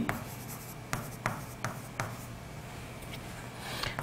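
Pen scratching across paper while notes are written during a chemistry lesson, soft continuous scribbling broken by several sharp taps and strokes, close and fairly quiet with a steady low hum behind.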